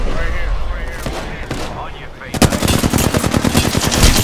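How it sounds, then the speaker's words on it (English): Rapid automatic gunfire in the video game Apex Legends, loud bursts of dense repeated shots filling the second half after a stretch of mixed game noise and muffled voice chatter. "Trying to cover you, I'm getting shot."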